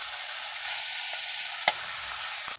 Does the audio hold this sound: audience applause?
no